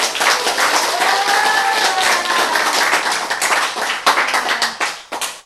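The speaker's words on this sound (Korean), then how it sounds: "박수" A Korean lecture audience claps together, a dense burst of applause that runs for several seconds before thinning into scattered claps, with a voice faintly underneath.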